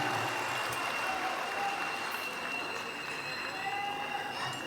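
Large audience at an Anies Baswedan national symphony event applauding the performers, a broad, steady roar of clapping that stays loud throughout, heard from a distance.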